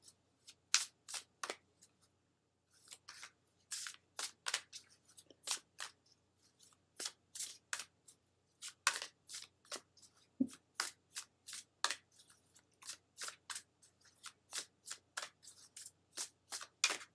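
Cards riffled and shuffled repeatedly in quick, crisp bursts, close and fairly quiet, with brief pauses between rounds.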